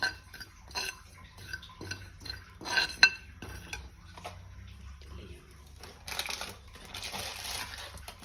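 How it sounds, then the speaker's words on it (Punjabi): Cumin seeds roasting in a hot pan while a spoon stirs them, with light scraping and clinking scattered through and a denser sizzling rustle building toward the end, quiet and close. "ਆਪਾਂ ਚੰਗੀ ਤਰ੍ਹਾਂ ਭੁੰਨਾਂਗੇ ਇਦਾਂ ਚਮਚਾ ਫੇਰ ਫੇਰ ਕੇ"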